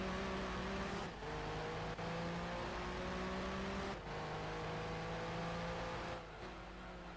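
A race car engine in Gran Turismo 2 drones and revs steadily, harsh and angry-sounding, with brief dips at each gear change across the run.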